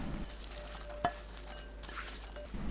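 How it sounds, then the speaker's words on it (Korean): Enoki mushrooms, kelp, chili, soy sauce and sesame oil are mixed together in a bowl, with soft, faint stirring and one brief clink of a utensil against the bowl. No one speaks. "다시마, 청양고추, 국간장 1큰술, 참기름 1큰술, 고운 소금 1꼬집 넣고 섞어주세요."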